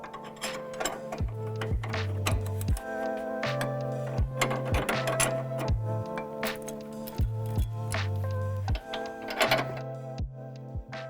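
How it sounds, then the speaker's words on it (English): A wrench tightens the nut on the pivot bolt of a Toyota Tacoma's upper control arm, giving repeated ratcheting clicks in bursts between short low-pitched whirs from a power tool, close and fairly quiet with no talk. "we're gonna move to the back and tighten up this nut the rest of the way on the pivot bolt"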